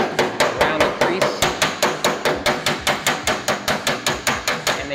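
A hammer striking a metal body panel backed by a dolly while working out a crease, rapid steady metallic blows about five per second, close and loud, with no talking.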